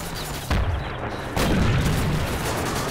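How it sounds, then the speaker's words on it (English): Cannon fire in a military video game: two heavy booms about a second apart over a constant background din, each leaving a rumbling tail. "They're fucking cannons!"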